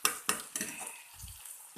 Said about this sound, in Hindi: इन्हें अब हम थोड़ा सा भूनेंगे, बिल्कुल थोड़ा सा ही भूनना है, ज़्यादा फ्राई नहीं करना।